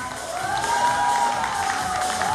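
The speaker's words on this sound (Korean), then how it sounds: "많은 박수 부탁드립니다." Crowd cheering and applause greets models dressed as Queen Elizabeth and her entourage representing England at an academy fashion show, a steady, dense roar throughout.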